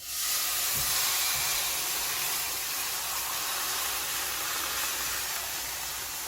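About 1.5 litres of water poured into a hot pot of pan-toasted dried pollack sends up a loud, sustained hiss of steam that holds steady close by, after a brief knock at the start.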